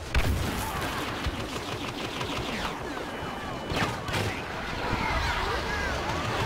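Gunfire and explosions in a Star Wars Battlefront Walker Assault battle at Outpost Beta, a dense continuous barrage of blasts and shots with some louder bursts, heard without talk.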